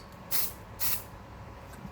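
Spray deodorant aimed at a smoke detector, two short loud hissing bursts about half a second apart, followed by quiet room tone.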